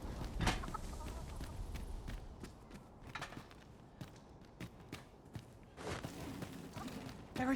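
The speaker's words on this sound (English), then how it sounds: "There are chickens here" Chickens cluck in the Dragon's Dogma 2 game world, short scattered clucks and scratchy steps at a moderate distance over a soft ambient bed, with a few louder bursts.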